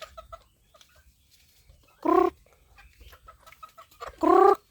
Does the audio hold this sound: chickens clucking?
yes